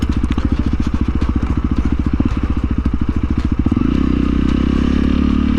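A 2021 Honda CRF 300L dual-sport motorcycle rides over bumps, its engine a close, steady pulsing thrum with light clatter, rising into a smoother, higher drone near the end.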